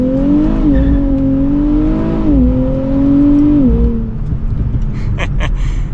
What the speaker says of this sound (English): All right, setting off now in the Z.